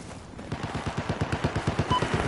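Rapid automatic gunfire in a Battlefield video game, a steady burst of evenly spaced shots rattling on for about two seconds at moderate loudness.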